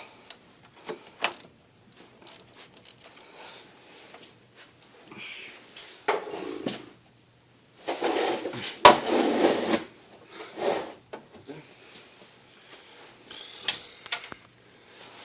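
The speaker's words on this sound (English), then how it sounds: "start loosening these bolts up" Wrench work loosening 8mm bolts on a water pump of a 3.1/3.4 engine, with scattered metallic clicks, scrapes and knocks in short bursts separated by quiet gaps.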